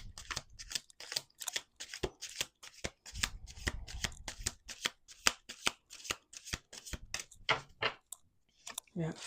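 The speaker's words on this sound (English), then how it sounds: "Last shuffle." A deck of tarot cards shuffled by hand in a rapid run of crisp riffling snaps and slides, close and fairly quiet, with brief pauses between bursts and no talking.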